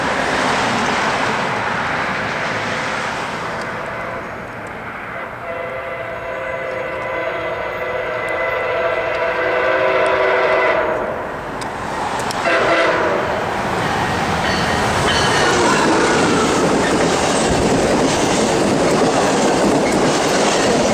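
A CSX train rolls past on the railroad at Washington Grove, Maryland, loud and close, with a steady rumble and rhythmic wheel clatter lasting throughout, a brief dip midway, then continued roaring passage.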